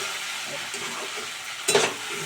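Banana stem fries with pea-lentil bori in a pan, a moderate steady sizzle, then near the end a louder burst of spatter and a clatter as the pieces are stirred, with no talking.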